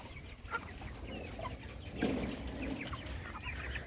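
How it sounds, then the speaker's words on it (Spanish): Chickens on a farm cluck and murmur continuously at moderate distance, with occasional louder calls over a busy background and no talking. "Por acá hay un pollito."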